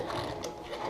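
A wrench ratchets quickly while tightening the water supply line fitting on a newly installed toilet, giving a short run of close, crisp clicks with no voice.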